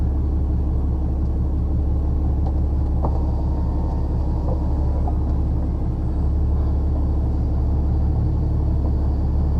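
A lorry creeps along in crawler gear, its engine a steady, heavy low rumble from inside the cab, continuous and unbroken with a few faint knocks and rattles.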